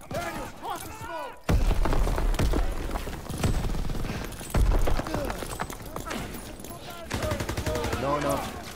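Combat in Call of Duty WW2 with a heavy blast and bursts of gunfire, loud booming hits and rattling shots under shouted, panicked voices.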